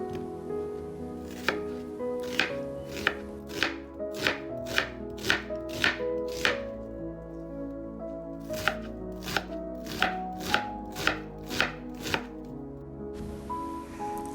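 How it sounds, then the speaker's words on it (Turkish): Sharp, rapid knife chops through onion on a cutting board, two bursts of steady rhythmic strokes with a short pause between, close and clear over faint background music. "Soğanı küçük küçük doğrayarak başlıyorum."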